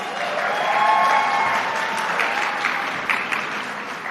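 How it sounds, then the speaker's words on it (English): A crowd at an awards ceremony applauds steadily, a dense wash of clapping that holds at an even level throughout, close and fairly loud. "Give her a round of applause"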